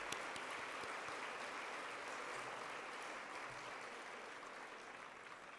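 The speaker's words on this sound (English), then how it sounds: "If you could join me in a round of applause for everyone." Round of applause from the audience at a women's luncheon, a steady, dense wash of many hands clapping that continues evenly throughout and fades slightly toward the end.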